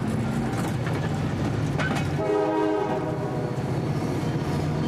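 Train on the CSX railroad line out of sight over a bridge, a loud continuous rumble of rail cars with a horn blast partway through.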